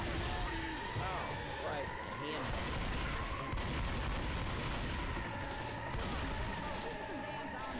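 Gunfire in the zombie shooter game Left 4 Dead 2, dense and continuous with rapid overlapping shots filling the whole stretch. Voices talk over it throughout.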